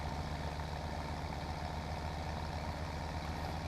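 A tractor engine in Farming Simulator 2017 idles with a continuous low, even rumble that stays steady throughout, with no voices over it.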